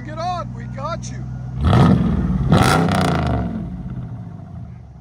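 A RAM truck's 6.4L V8 with a loud exhaust revs hard twice, roaring up loudly and falling back, after a short stretch of talking at the start.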